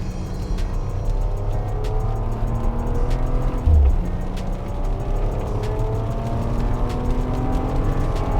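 A Bentley Continental GT Speed driven hard on a soaking wet race track in Adelaide, its engine droning steadily with rising and falling revs and a hiss of spray, heard from inside the car throughout.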